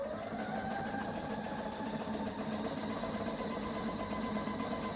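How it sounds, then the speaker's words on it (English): A sewing machine stitches a straight line down a feather shape cut from vinyl and suede, giving a steady, even mechanical whirr with fast rhythmic needle clatter throughout, fairly quiet and without talk. "I'm just going to go ahead and stitch the straight line down the middle of the feather"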